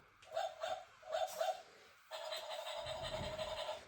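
A dog barks in two quick pairs of sharp barks, then a steadier, higher yappy barking continues close by with some rustling underneath.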